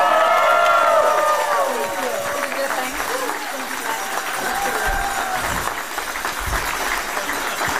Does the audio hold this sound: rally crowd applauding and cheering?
yes